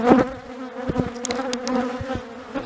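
A honey bee colony being removed gives off a dense, continuous buzzing close by, with steady hum bands and scattered louder passes as bees fly near.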